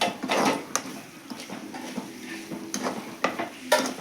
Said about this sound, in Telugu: వంకాయ ముక్కలు వేస్తున్నాను.